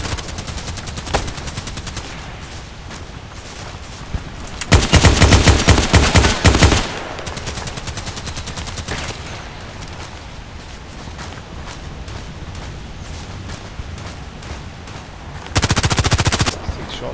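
Gunfire in the online shooter game Contract Wars: scattered single shots, a loud automatic burst of about two seconds, and another short burst near the end, over faint background steps.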